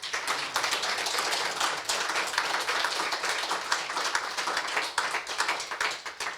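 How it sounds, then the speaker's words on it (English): Audience applause after a lecture fills the room: dense, continuous clapping from many hands, steady and fairly loud from start to finish with no voices over it. "I think he deserves a round of applause for that."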